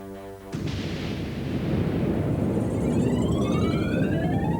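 An asteroid impact explodes with a sudden sharp crack followed by a loud, sustained rumbling roar that swells and lingers, broad and heavy like a massive blast, with no talk over it.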